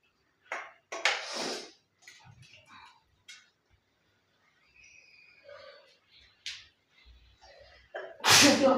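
Two sharp sneezes burst out in a home kitchen while masala fries, followed by scattered clinks of pots and utensils and brief quiet murmurs, then a loud final sneeze near the end.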